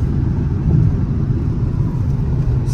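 A car cruising along the I-90 highway, heard from inside as a loud, steady low engine and road rumble with no talking.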